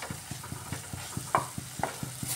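Spice paste fries in oil for an omelette curry, with steady faint sizzling and a regular rhythm of spatula strokes scraping the pan, close and quiet with no talk.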